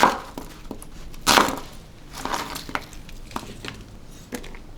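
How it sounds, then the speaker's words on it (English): A knife chops two onions on a cutting board, irregular close taps and knocks with a couple of louder thuds, moderately loud and without talk. "I'm cutting up 2 onions"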